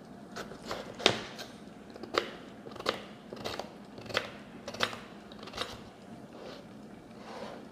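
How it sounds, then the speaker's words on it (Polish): A knife dices potatoes on a cutting board, about a dozen crisp, evenly spaced cuts in a quiet kitchen. "Ziemniaki pokroję w kostkę."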